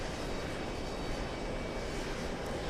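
Boeing 787 Dreamliner airliner at an airport, giving off a steady, broad engine roar that holds evenly throughout at moderate distance, with no voices.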